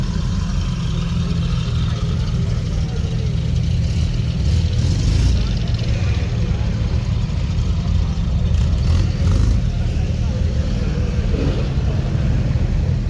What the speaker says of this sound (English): We got some traffic here.